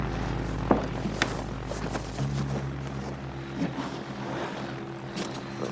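An airplane engine warming up before a flight, a steady droning propeller hum with a drop in pitch partway through and some faint clatter.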